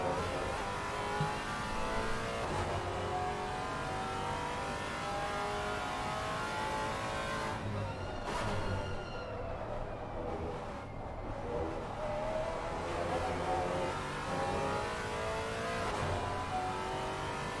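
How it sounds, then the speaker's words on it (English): Maserati race car in a sim racing league session at Imola, its engine revving and shifting steadily through the lap, loud and continuous with brief gear-change dips and no talk over it. "Listen to the sweet, sweet sound of that Maserati."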